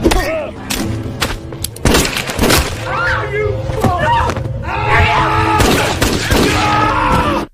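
Gunfire in an action film scene: rapid shots, cracks and impacts in quick bursts, mixed with film music and effects, loud and close, with a narrator's voice running over much of it.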